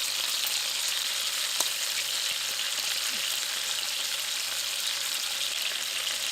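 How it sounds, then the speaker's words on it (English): Venison shanks seasoned with turmeric and thyme searing in a hot pan, a loud, even sizzle holding steady throughout with a couple of faint clicks. "We're just going to do a little quick sear on each side."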